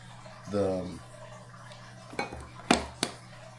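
A flour-thickened mac and cheese sauce is stirred in a pot, with a brief voice early on, then a few distinct spoon scrapes and metallic clinks against the pot.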